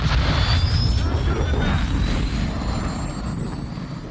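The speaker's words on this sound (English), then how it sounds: "Hostile cruise missile incoming." A hostile cruise missile in Call of Duty streaks in with a loud, steady jet-like roar and a thin rising whine, sustained and close throughout.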